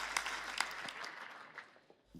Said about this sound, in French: Elle mérite aussi tous vos applaudissements